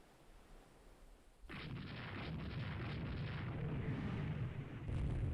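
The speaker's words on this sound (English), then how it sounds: "Something got hit by a torpedo." A torpedo strike explodes in the naval strategy game Rule the Waves 2: a sudden loud blast kicks in and swells into a sustained, roaring rumble that keeps rolling and builds again near the end, with no voices.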